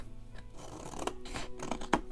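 Scissors snip through paper to shape a tab on a handmade 7x7 flip-top gift box, giving a few quiet, close crisp cuts over soft rustling.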